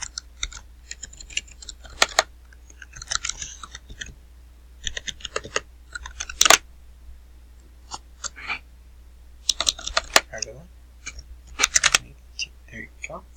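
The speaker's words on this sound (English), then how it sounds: "you're going to type in any email you want to send them an invite to talk face to face with you" Keys clatter on a computer keyboard as an email address is typed, quick bursts of close clicking separated by short pauses, with a faint low hum underneath.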